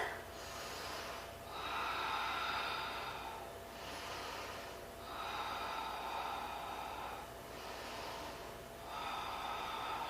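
Slow, deep yoga breaths during a seated twist, with repeated drawn-out inhales and exhales close to the microphone at an even rhythm, fairly quiet against a low background hum.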